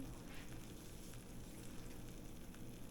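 Reuben sandwich sizzling in a panini press, a steady, even frying hiss that runs unbroken and fairly quiet from start to finish, close by, with no voices over it.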